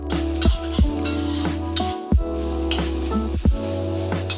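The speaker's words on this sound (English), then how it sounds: "And then put in the shiitake mushroom and cook it for a little bit more." Shiitake mushrooms fry in sesame oil in a hot pan, hissing continuously while a spatula scrapes through them in repeated, evenly spaced strokes close by.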